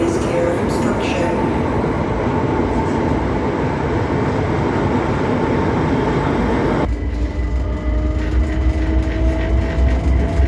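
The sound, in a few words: train ride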